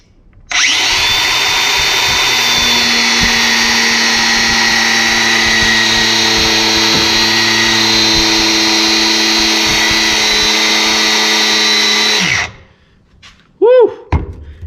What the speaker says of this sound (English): I'm going to use a grinder to cut this poly bushing down.